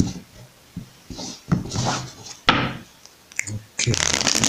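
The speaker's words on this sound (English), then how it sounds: "Okay, let's shuffle." A tarot deck is shuffled by hand in short bursts of papery riffling and tapping, with gaps between, then a longer final shuffle, heard close up.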